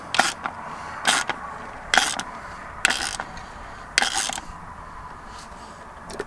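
Screws being tightened into a Weatherby Element rifle stock, five or six separate short ratcheting scrapes spaced about a second apart, close with quiet gaps between.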